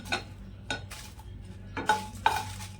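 Whole spices for sambar masala are stir-roasted in a dry pan, with several distinct scrapes and clinks of a spoon against the metal at irregular intervals and a faint sizzle between them.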